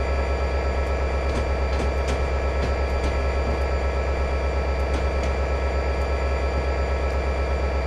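An EMD SD40-2 diesel locomotive in the game Train Simulator 2014, coming to a stop: a steady low engine drone with a constant hum and faint periodic clicks, no voices.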